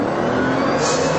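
Bugatti EB Veyron accelerating hard, a dense, loud engine roar with rising whine that fills the short moment without any talk.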